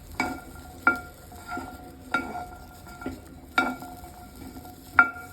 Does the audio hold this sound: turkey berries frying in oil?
yes